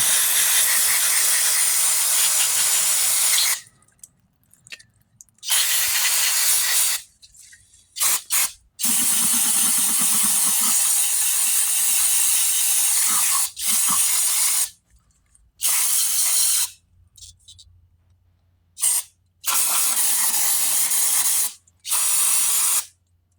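Carburetor cleaner sprays onto the outside of a pressure washer carburetor in loud, close hissing bursts of several seconds each, separated by short silences, with no talking.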